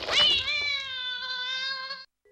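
A single drawn-out cat meow from a Ju-On horror film, loud and close, rising then holding a long wavering tone for about two seconds before stopping abruptly.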